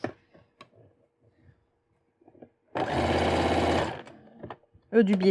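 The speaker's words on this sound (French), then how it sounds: "Donc le biais, je couds au ras du biais." A sewing machine runs in one steady burst of about a second, stitching bias binding along the edge of a hooded scarf, close and fairly loud, with quiet French speech before and after.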